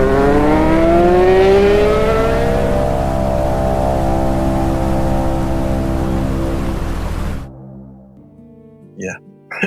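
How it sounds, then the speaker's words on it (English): A narrowboat engine on a river revs hard near a large tour boat. It gives a loud, rising drone that climbs in pitch and then holds steady for several seconds before cutting out abruptly, leaving a few faint knocks. "I had to really redline the engine to get out the way of this big boat"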